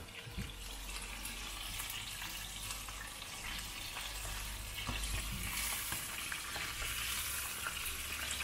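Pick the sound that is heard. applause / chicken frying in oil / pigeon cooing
chicken frying in oil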